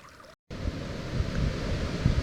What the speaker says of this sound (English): All of a sudden, the wind has started blowing like mad.